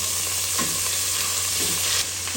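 Garlic and leaves dropped into hot oil in a pan, a constant loud sizzle with a few stirring scrapes, close up and with no talking.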